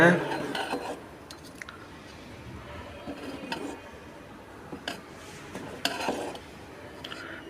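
A utensil scrapes and clinks against a metal pot in irregular strokes as dried-fish curry is stirred, with faint background noise.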